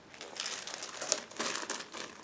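Plastic bag holding sprues from an Eduard 1/72 model kit crinkles and crackles as it is handled, a close, continuous rustle with brighter bursts of crumpling throughout.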